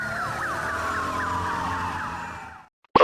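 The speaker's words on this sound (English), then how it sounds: "This is a police motorcycle, a mobile vehicle that helps authorities quickly reach scenes and lead convoys." A police motorcycle siren wails loud and close in a fast repeating rising-falling pattern for about two and a half seconds, then cuts off abruptly, followed by a short burst of another sound.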